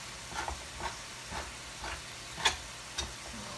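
Quiet sizzling of 80/20 ground beef browning in a pan, with soft, regular scraping strokes as it is stirred and a sharper knock near the middle.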